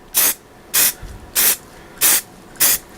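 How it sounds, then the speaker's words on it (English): Five short bursts of primer filler aerosol spray hiss, evenly spaced about half a second each, loud and close with quiet gaps between. "I'm going to spray it, so hang on."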